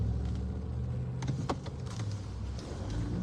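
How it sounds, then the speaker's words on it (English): Steady road traffic in Fort Lauderdale, Florida, with cars passing close by in a continuous low rumble and a couple of brief whooshes swelling and fading; no talk is heard. "sorry, lots of cars coming at the moment."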